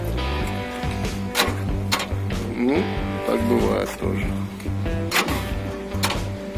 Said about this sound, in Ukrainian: Заводим мотор.